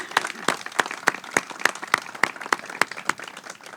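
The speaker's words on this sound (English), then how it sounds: "I always want to recognize him on a day like today with a round of applause" A crowd at a veterans' event claps in a round of applause, sharp distinct claps landing in a loose rhythm, moderately close and steady across the stretch.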